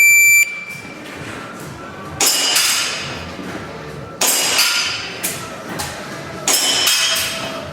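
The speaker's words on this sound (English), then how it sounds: "We're going to start the timer." A shooting drill begins with a shot timer's sharp electronic beep, followed by loud, close gunshots with echoing decay spaced over the following seconds.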